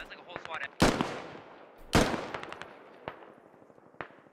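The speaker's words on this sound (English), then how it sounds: "More bullets just getting put into Don't Get Shot's dead body here." Gunfire in a squad-based military shooter game as bullets pour into a downed player's body: two loud broadband bursts followed by a few sharper single shots, with voices and chatter running underneath.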